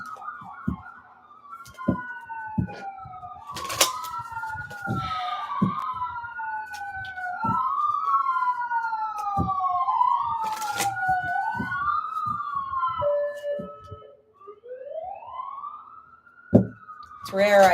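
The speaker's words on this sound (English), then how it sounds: "I'm sure you can hear those sirens right now." Police sirens wail and yelp from outside, heard from indoors at moderate distance, sweeping up and down in a steady cycle, while a person talks over them with scattered knocks and clicks.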